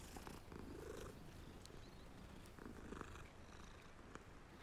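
Steady, close cat purr from the video game Hogwarts Legacy, a continuous soft rumbling that carries alone for several seconds over a faint background.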